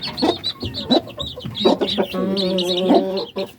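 Chickens cluck nearby on a mixed farm in short bursts, with a longer drawn-out squawk in the middle and a faint bird chirp above.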